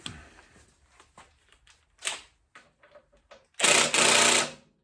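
A 6 mm tool works the brake caliper bolts on a Honda ST1300 motorcycle: scattered light clicks and taps, then a loud, close, rapid rattling burst lasting about a second.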